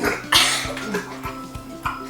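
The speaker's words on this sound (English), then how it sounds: "that was your dog freaking making gurgling sounds" A small Maltese dog named Pixie gives off short wet gurgling and snorting sounds, close to the microphone, with a steady low hum beneath.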